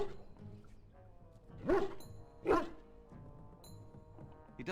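A dog in the video game Dragon Age: Origins gives two loud, close barks about a second apart over a steady musical background, with a third short yelp starting at the very end.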